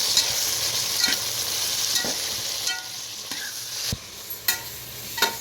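Food frying in a home kitchen pan hisses steadily while a spoon stirs and scrapes it in irregular clinks and scuffs, close and moderately loud, no voices.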